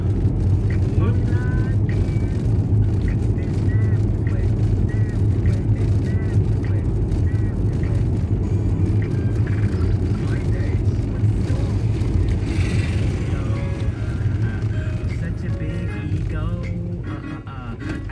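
An electric garbage truck collecting food scraps in Auckland rolls past with a steady low rumble and hum that stays loud throughout, easing slightly near the end, while people chat over it.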